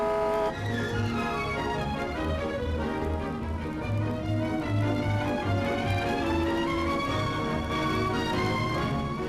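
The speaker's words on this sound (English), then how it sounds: "a lively little car like this will find a chance to overtake sooner than most" A 1956 Austin A35, a lively little car, drives along a narrow winding road and pulls out to overtake, its small engine humming steadily and close throughout, with a rising whine as it gathers speed.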